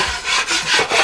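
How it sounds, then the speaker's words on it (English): A scraper works over drywall on a ceiling and walls in repeated rough, rasping strokes, roughly four passes in about a second, loud and close with no voices. "So I'm going around and scraping the best I can"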